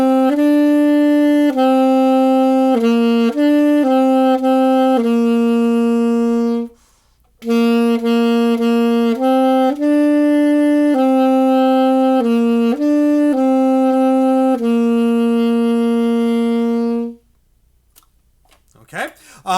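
An alto saxophone plays the simple melody of Au clair de la lune in clear sustained notes, pausing briefly midway, then finishing the phrase alone with a short tail of silence.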